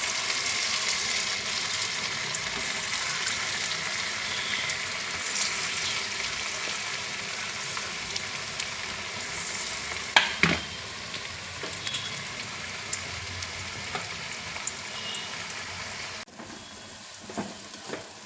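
Raw banana kebabs frying over a medium flame, a steady close crackling sizzle running throughout with a few sharp utensil clicks and knocks midway, no speech.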